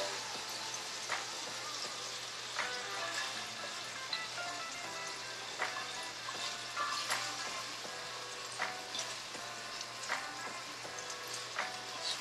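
Crappie fillets frying in a pan on a stove, a quiet, continuous sizzle with small irregular pops and crackles scattered across it.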